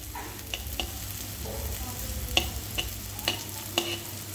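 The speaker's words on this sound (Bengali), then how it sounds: "অনেকটাই ভেজে নিয়েছি।" Bitter gourd (uchhe) frying in a pan, a steady close sizzle broken by repeated sharp scrapes and taps of a spatula stirring, with no talk.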